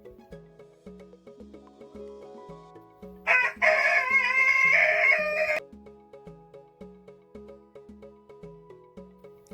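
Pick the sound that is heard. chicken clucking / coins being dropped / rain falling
chicken clucking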